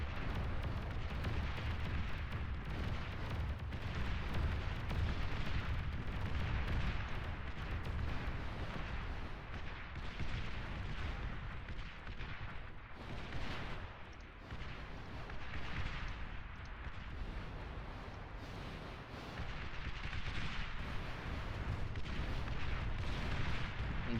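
Dense, continuous barrage of tank and artillery fire in the strategy game Beyond All Reason, booming shots and blasts overlapping without pause at a loud, steady level.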